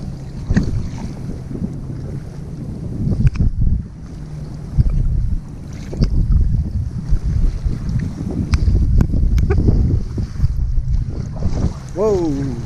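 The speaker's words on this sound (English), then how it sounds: "The waves are coming pretty good." Waves wash and slap around an inflatable kayak on the Gulf of Mexico, with steady rushing water and gusting wind noise rising and falling close to the microphone.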